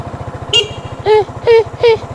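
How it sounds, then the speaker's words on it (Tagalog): A QJMotor Fortress 160 motorcycle idles with a steady low putter, and its horn gives about four short, close honks over it. "Ating busina."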